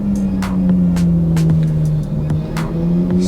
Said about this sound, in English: 675 LT Spider just went past.